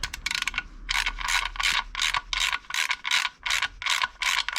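A hand ratchet clicks rapidly in a steady back-and-forth rhythm, working a bolt on a stripped oil pan of a 1.8T engine; close and loud, about a dozen quick bursts with no talk.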